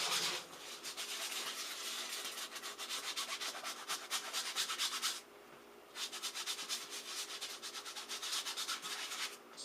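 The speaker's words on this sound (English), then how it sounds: "Scrub the bottoms a little bit, let them sit." A brush scrubs soapy Nike Air Max shoe soles in fast, steady back-and-forth strokes, loud and close, pausing briefly before resuming.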